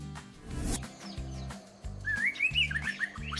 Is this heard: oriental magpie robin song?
yes